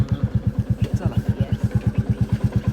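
Motorbike engine running in gear, a close, rapid and very regular low thumping at a steady idle-like pace that holds even for the whole stretch.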